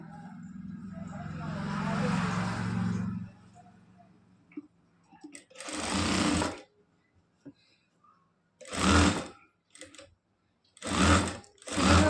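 A sewing machine stitches a sleeve onto a blouse in several separate bursts of fast, even whirring, close by. A soft voice murmurs briefly near the start, and short pauses with faint clicks fall between runs.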